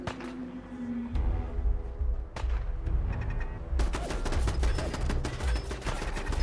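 Rapid bursts of gunfire from a Fallout 4 firefight crackle at moderate distance, becoming a denser volley of repeated shots in the second half, with no talk over them.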